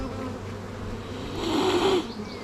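Honeybees buzzing at an open production beehive during a hive inspection, a close, continuous droning hum that swells briefly louder in the middle.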